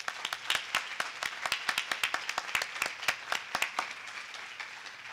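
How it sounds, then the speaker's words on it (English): An audience applauds at a motivational address hosted at Ohio State, fairly faint scattered hand claps from a modest crowd that thin out toward the end. "So let's give them a round of applause."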